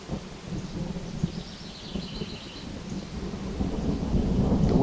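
Thunder from a mountain monsoon storm rolls in low and distant, a continuous deep rumble that grows gradually stronger over a few seconds, with no voices.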